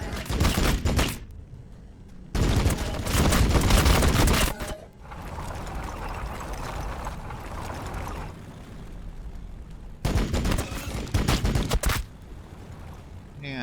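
Heavy gunfire from a Predator tank in the Warhammer 40000 Battlesector video game: several loud bursts of rapid shots separated by quieter stretches of battle noise.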